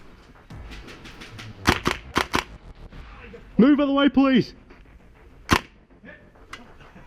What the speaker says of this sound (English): You can hear the gunfire from the left though.